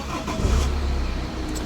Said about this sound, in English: If I were to start the car